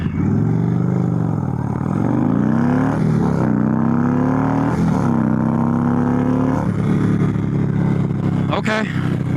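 An Indian Chief motorcycle's Thunderstroke V-twin engine rumbles loudly, its deep note rising and falling through several throttle blips, with a voice talking over it.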